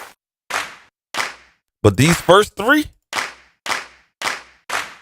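A layered clap drum sample treated with chorus and distortion, struck as sharp repeated hits in a steady spaced rhythm, loud and close, with someone talking over a few of the hits in the middle.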